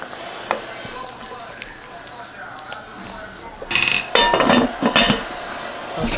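Metal lid set back onto a pot of simmering beef stew, a couple of brief clattering clinks near the end, heard after a stretch of quiet kitchen ambience.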